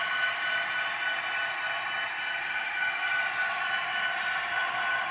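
A small model train on a home layout rumbles steadily along its track, a continuous mechanical whir with no voices, holding a constant level for several seconds.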